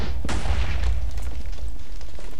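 A single loud Minecraft explosion goes off on the Mad Bomber minigame map, a sudden booming burst followed by a rumbling decay that fills the rest of the moment.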